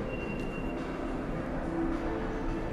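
Lisbon metro train on a quiet mid-morning ride, a steady loud rumble of the carriage running on rails with a faint brief wheel squeal, continuous and close throughout.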